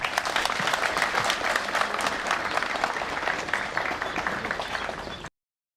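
Sustained, dense applause from a crowd at a podium event in Mersin, steady and loud throughout before cutting off abruptly near the end.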